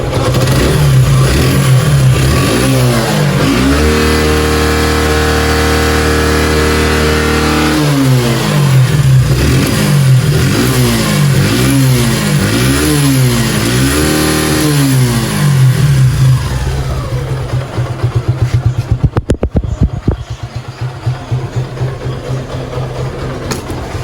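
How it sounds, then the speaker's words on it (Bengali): A Suzuki Gixxer motorcycle engine, recently fully overhauled and with a pickup problem, runs loudly up close, revving up and down repeatedly in rising and falling waves before settling into a rough, sputtering idle. "already bike start mission successful"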